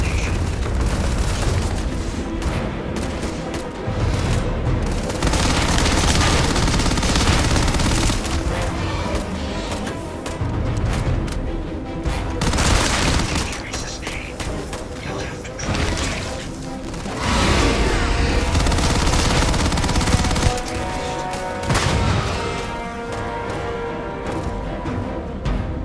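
Sustained gunfire and booming explosions in the video game Starfield, dense loud volleys with heavy blasts and whooshes rolling on continuously for nearly half a minute amid game noise.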